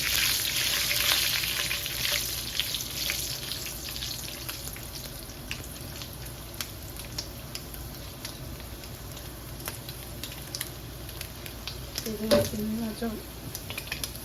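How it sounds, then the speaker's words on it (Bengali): Dried chillies fry in oil with a constant hiss, and small crackles and pops spread through it, close by; a voice speaks now and then over the sizzle. "দুটো শুকনো মরিচা ভাজি করে নিই"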